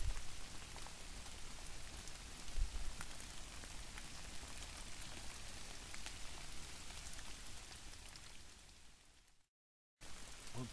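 Heavy rain pours down onto a lean-to camp, a dense, constant hiss of drops drumming on the shelter, close and loud throughout before cutting briefly near the end.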